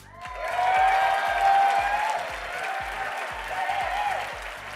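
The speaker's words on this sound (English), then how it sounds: "please give a round of applause for" An awards-ceremony audience in New Orleans applauds a Montreal restaurant named at number 15, a full, loud wash of clapping that rises and holds. Music with a pulsing, regular low beat and sustained tones plays underneath.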